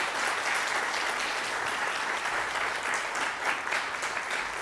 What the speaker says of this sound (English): I would like to ask audience members to take this opportunity to applaud their candidates.